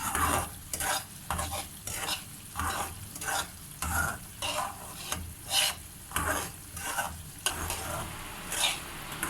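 Semolina roasting in a pan for halwa, rhythmic spatula strokes scraping and stirring roughly once a second over a gentle dry sizzle, close and steady throughout.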